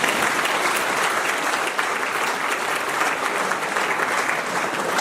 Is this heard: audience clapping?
yes